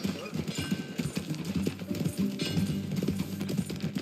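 Horse hooves clip-clopping at a steady riding pace in the Western video game Red Dead Redemption 2, rhythmic and fairly close, with a faint snort and brief background voices over the clatter.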